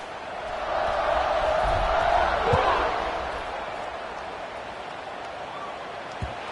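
A stadium crowd in the College Football 26 video game swells into a loud roar at kickoff, peaks, then eases to a sustained murmur, with a couple of thuds near the end.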